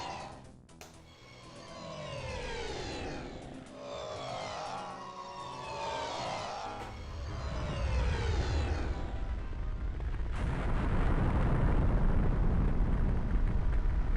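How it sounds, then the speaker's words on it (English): Dark Troopers in a Star Wars video game blow up, with descending whooshing sweeps followed by a loud, sustained roaring explosive rumble that swells and holds to the end. "Apparently Dark Troopers explode."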